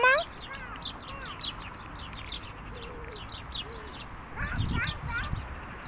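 Small wild birds chirping and tweeting in quick, bright bursts as they are fed pasta outdoors, with a burst of louder calls near the end and a voice briefly at the start.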